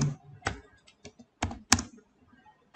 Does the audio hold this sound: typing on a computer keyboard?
yes